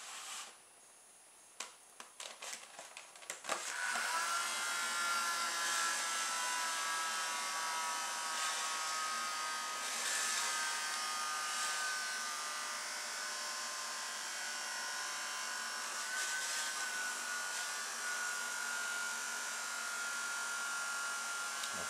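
Small fan motors on a cheap bargain-store toy hovercraft whir steadily at a high, buzzing pitch after a few brief starting bursts, running close and continuously with no talk.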